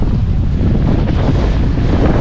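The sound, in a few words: wind noise on the microphone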